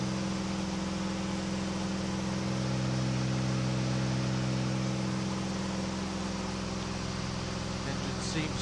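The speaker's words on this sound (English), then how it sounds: "Engine seems smooth." The engine of a KR2 light aircraft drones smoothly in flight, with a loud steady hum and stable low tones, continuous and unbroken.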